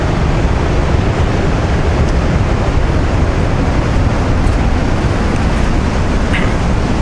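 Loud, continuous roar of Pacific Ocean surf at high tide during a winter storm, broadband and unbroken, with some wind buffeting the microphone.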